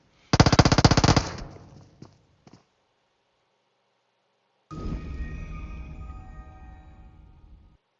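A loud rapid burst of automatic gunfire from the PUBG Mobile video game, followed by a brief quiet, then a longer stretch of fainter, sustained firing and rumbling action, with no talk.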